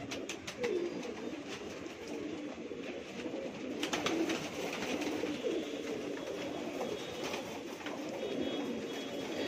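Pilwan-breed pigeons with black bars, a line kept for decades at a home loft in Mumbai, coo in a low ongoing murmur with a few louder calls and faint rattling.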